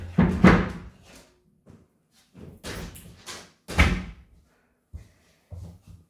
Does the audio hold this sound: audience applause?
no